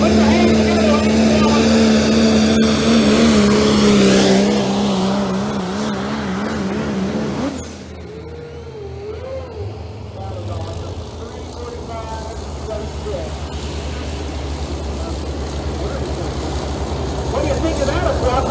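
Pro stock diesel truck making a drag strip pass: a loud, rising engine roar that climbs in pitch then fades away, followed by distant rumble and crowd noise, with an announcer talking over it.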